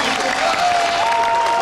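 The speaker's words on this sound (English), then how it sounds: "Listen to the roar of the crowd." Crowd roaring and applauding at the 1998 Le Mans 24 Hours podium celebration, a dense steady wall of cheering with a faint tone threading through it.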